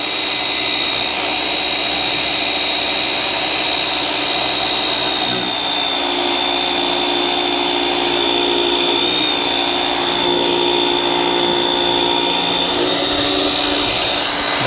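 A DeWalt cordless power washer runs with a loud, steady, close-up whine and hiss, broken by one brief dip partway through before the drone carries on unchanged.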